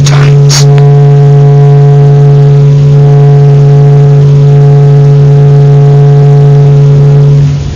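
Sped-up sonification of the Sun's internal pulsating vibrations: a loud, steady drone with stacked sustained tones and a brief bright burst near the start, holding evenly throughout before easing off at the very end.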